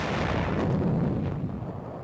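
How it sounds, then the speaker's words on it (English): Artillery fire booms across battlefield footage from the Battle of Okinawa, a dense, rumbling roar of guns blasting enemy positions near bypassed hills, loud and sustained with no clear gaps. "Guns are set up to blast Jap positions which have been harassing supply lines in range of the bypassed hills."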